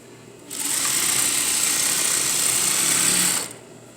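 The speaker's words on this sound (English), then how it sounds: "then we're going to sew a 1/2 inch seam all the way" A sewing machine stitches a half-inch seam in jeans, running as one steady, close whir for about three seconds. It starts and stops cleanly against a quiet room.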